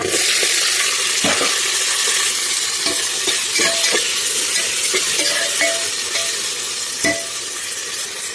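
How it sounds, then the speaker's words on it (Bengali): Chopped vegetables, with onion and green chilli, fry steadily in a pan while being stirred, giving a continuous loud sizzle broken by several sharp scraping and clinking knocks of the spoon against the pan. "তো সবজিগুলো ভালো করে ভাজি করে নেব।"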